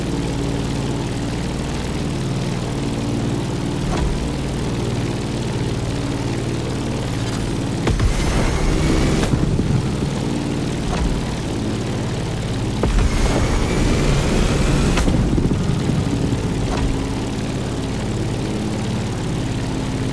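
A propeller aircraft engine climbing in the driving game The Crew Motorfest, a steady droning hum heard from inside with two brief louder surges, no talk.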